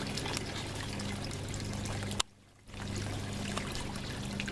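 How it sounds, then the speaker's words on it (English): An outdoor water fountain pours in a steady, fairly loud splashing rush that briefly drops out before resuming, heard from a short distance. "a nice water fountain over there. Water's coming out all of them."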